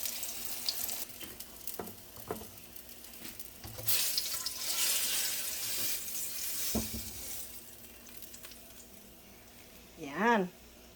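Bananas, corned beef and hotdog fry in a pan with a continuous sizzle, punctuated by scattered clicks and clatter of utensils, while a person talks over the cooking.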